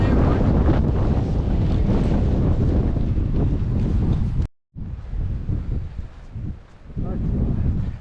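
Strong gusty wind on a hike in the Roan Highlands on the Appalachian Trail buffets the microphone in loud roaring bursts, cutting out briefly before returning with uneven rushing.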